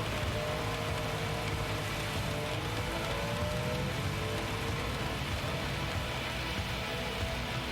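Steady rain pours down during a race at the Nürburgring in Gran Turismo 7, a dense, continuous hiss that stays even and loud throughout with no voices.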